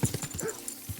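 A dog in the medieval video game Kingdom Come: Deliverance 2 gives a quick burst of short yips and barks, close and fairly faint, then falls briefly quiet.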